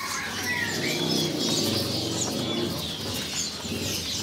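Gelatik batu birds crowd a bird kiosk, filling the air with dense, overlapping high chirps and a bit of wing flutter, steady and fairly close.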